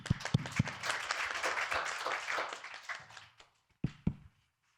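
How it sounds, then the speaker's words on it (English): Audience applause welcoming a speaker at a conference, a burst of clapping that swells for about three seconds and then fades, followed by a few isolated claps and soft thumps near the end. "please give him a round of applause to welcome him"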